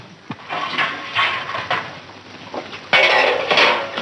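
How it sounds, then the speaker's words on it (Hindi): Metal pots and utensils scrape and clatter as they are dragged across a floor in a 1953 Indian film scene, with several uneven bursts of rattling, the loudest near the end, and no speech. "सारे बर्तन क्यों घसीट रहे हो?"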